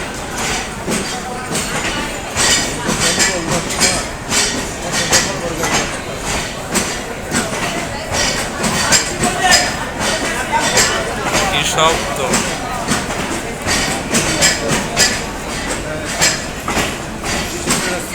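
Balaka commuter train in Bangladesh rolling along the rails, a steady rumble with rhythmic wheel clatter heard from inside a crowded carriage, constant and fairly loud, with a background babble of passengers talking throughout.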